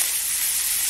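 Seared pork chops sizzle steadily in a hot pan, a close, even frying hiss with no voices over it.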